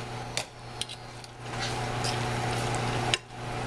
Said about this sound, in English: we have some picked Thai basil that we're just going to be stirring into the curry